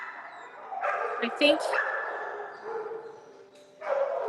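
A dog barks and yips in short bursts close by, then whimpers, with a person talking over and between the calls.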